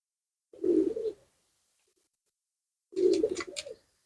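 Two young wood pigeon chicks give a pair of short, close cooing calls, separated by a few seconds of quiet.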